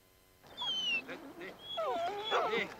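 Basset hound whimpering in a pet food advert: high, thin whines and yips in a few close bursts, some sliding upward, with a faint voice murmuring beneath.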